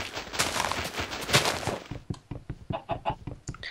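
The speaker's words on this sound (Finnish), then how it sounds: "Kotkottavia ankkoja." Ducks in Minecraft give a rapid series of short, clipped honking calls, a busy flurry at first, then sparser separated quacks against a quieter background.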